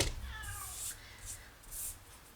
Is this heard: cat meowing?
yes